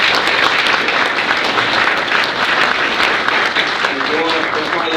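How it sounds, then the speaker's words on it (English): Audience at a club panel discussion giving a sustained round of applause for the panelists, a loud, dense crowd clapping throughout, with a voice briefly audible near the end. "Let's give a big round of applause to our panelists."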